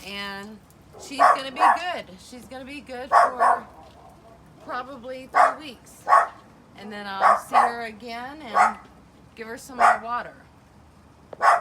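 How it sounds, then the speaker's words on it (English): A pet dog barks and yips several times in short bursts at close range, mixed with a person talking over it indoors. "Excuse my dog barking."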